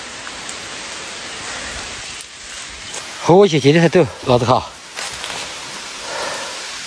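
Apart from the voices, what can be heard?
heavy rain falling on a mountain path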